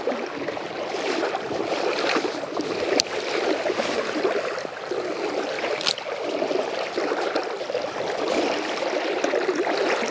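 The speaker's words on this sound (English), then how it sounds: "What I'm doing right now is called walking wading." Someone wades through shallow river water while fishing, each step splashing and sloshing in a continuous, moderately close stream of water noise with no talking.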